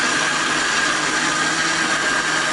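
A grinding machine milling groundnuts for oil gives off a loud, steady mechanical whir with a constant hum. It runs unbroken and alone from start to finish, with no talk over it.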